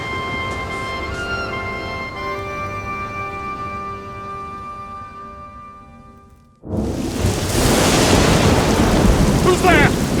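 A loud, dense storm of heavy rain and rumbling thunder in a stage performance of King Lear, crashing in abruptly after a sustained organ-like musical drone fades out, then roaring steadily to the end.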